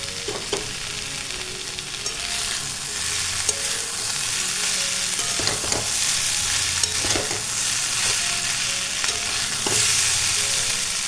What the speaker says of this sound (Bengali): মিশিয়ে নেওয়ার পরে এইবার মাছটা দিয়ে দেব এই যে মাছটা দিয়ে দিচ্ছি